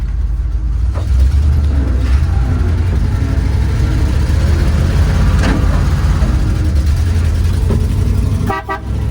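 A 1970 Dodge Super Bee rumbles through a victory lap, its engine giving a loud, continuous low drone with slight surges, close by, and a brief horn-like toot near the end.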